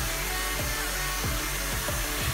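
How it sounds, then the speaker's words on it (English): A hair dryer blows steadily on a decoupage wooden tray, a constant airy whoosh with a low hum, close and moderately loud with no talk. "And I'm going to dry it with hair dryer."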